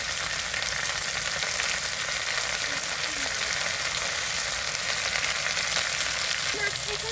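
Fish curry sizzling in a pan with ground ginger-cumin paste, a steady, dense frying hiss that holds at an even level throughout, with faint stirring underneath.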